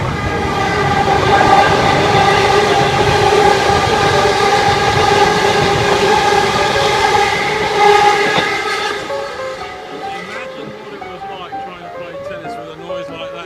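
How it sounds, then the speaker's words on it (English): A loud electric train rumbles past up close with steady rail noise and clatter, then fades away as it recedes. "Today we're here and these are quieter electric trains, and even they make an incredible"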